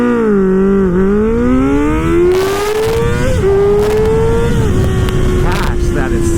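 A 2024 Kawasaki Ninja ZX-6R sport bike launches hard from a standstill, its engine screaming upward through the revs with quick shifts and sustained high-pitched acceleration, loud and close throughout.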